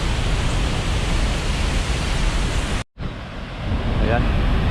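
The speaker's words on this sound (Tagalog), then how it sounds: "malaki itong waterfalls na to. Lakas ng agos." Rushing water of Seven Falls at Lake Cebu, a loud steady broadband roar with a brief cut in the middle, and a voice briefly heard near the end.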